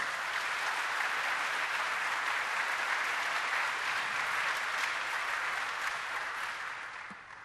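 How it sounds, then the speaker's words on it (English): An audience at a Civil Rights Game event gives a sustained, dense round of applause that holds steady and fades out at the end. "How about another round of applause?"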